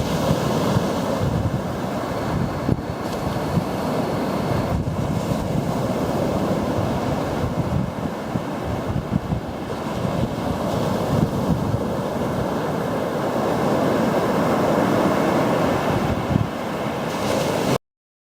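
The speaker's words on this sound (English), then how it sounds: "we were so close, we had to come see the beach" Ocean surf rolls onto a beach near a campground, a steady broadband wash of breaking waves mixed with gusty wind buffeting the microphone, continuous and fairly loud throughout.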